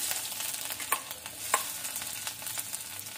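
Garlic and ginger sizzle in hot oil with mustard seeds, cumin and a pinch of asafoetida, a steady close frying hiss broken by a few sharp crackles and the clink of stirring.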